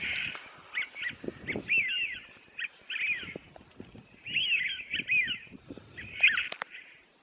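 Wild birds approaching decoys, calling repeatedly in bursts, harsh cawing notes fairly close, with brief gaps between calls and faint rustling underneath.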